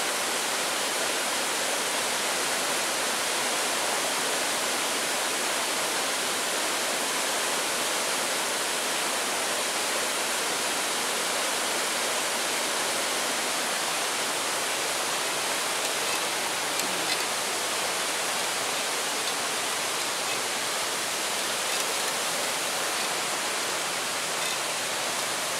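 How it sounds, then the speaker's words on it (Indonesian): A steady, dense rush of falling water roars without pause, broad and hissing like a waterfall heard from nearby. "Tuh ada air terjun tuh di bawah."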